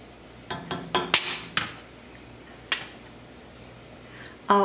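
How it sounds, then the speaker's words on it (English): Spoon or utensil clinking against a pan while cream cheese is broken up and mixed into a creamy white sauce: several sharp metallic taps clustered early, then a few isolated knocks, close and fairly loud. "So I'll mix this all together. I'll break up the cream cheese."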